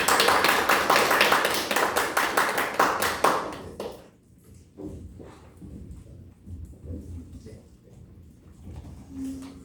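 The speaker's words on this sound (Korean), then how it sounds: "박수로 맞이하도록 하겠습니다." Audience clapping to welcome a guest speaker at a church lecture, dense and loud for about four seconds before fading into scattered claps and room noise.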